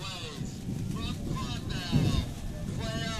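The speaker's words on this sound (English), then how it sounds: "Gust of wind right now." Wind gusting across an open-air racing event, a broad rushing noise that swells near the middle, with a commentator talking over it.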